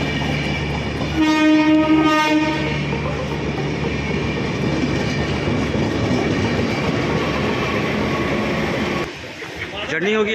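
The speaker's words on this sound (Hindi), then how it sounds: "टाइम हो रहा है 1:35 और ट्रेन हमारी आ चुकी है।" The Maithili Express rolls into an Indian railway station, its horn blaring in a loud sustained blast near the start, then wheels clattering steadily over the rails as the train passes close by, with someone speaking over it.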